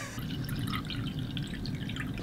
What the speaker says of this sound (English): I just gotta pour me some of this 1914 smart water as I do my research